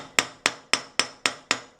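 A hammer strikes a hollow metal ring piece on a steel stake: six sharp, evenly spaced taps, each with a brief metallic ring, close and clear, with no voices.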